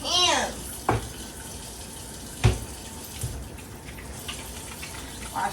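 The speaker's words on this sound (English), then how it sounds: "Wash my hands real quick." Tap water runs steadily from a faucet into a sink as hands are washed, a soft continuous wash with a few brief knocks and splashes standing out.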